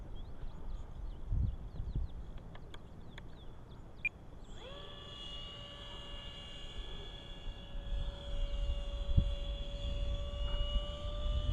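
An E-flite Spitfire RC model plane on a very slow descent landing gives a steady engine drone. The drone rises in pitch and holds as a sustained tone through the second half, with faint clicks and rustling early on.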